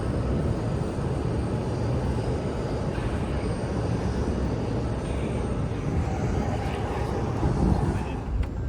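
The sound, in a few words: piston aircraft cabin engine noise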